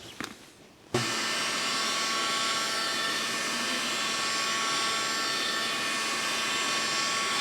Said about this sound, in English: We'll use some heat gun just to expand it just a little bit